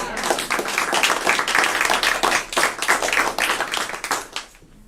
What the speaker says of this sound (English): All right, round of applause, maybe.